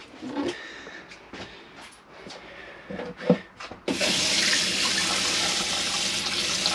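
Some clattering and rubbing handling sounds, then a hot water tap in a Rollerteam T Line 740 motorhome washroom turns on and water gushes steadily, loud and close, hissing without pause to the end.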